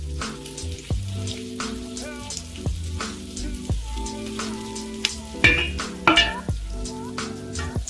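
Butter and groundnut oil sizzle steadily in a pot, with a continuous frying hiss broken by periodic clanks of a utensil against the metal, no voices.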